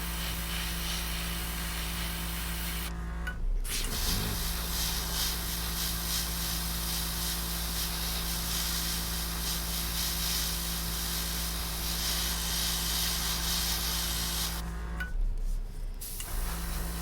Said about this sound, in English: we've got some nice flow going now on the airbrush